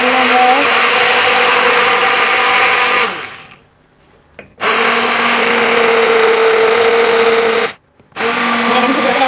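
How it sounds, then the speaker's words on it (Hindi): A kitchen blender grinding yogurt with sugar into lassi, a loud close whirring motor that runs, cuts out briefly, restarts, stops again and resumes, with a voice faintly present. "ये मैं बना रही हूँ रोज़े के लिए लस्सी दही की चीनी डाल के, और इसको ग्राइंड करना है।"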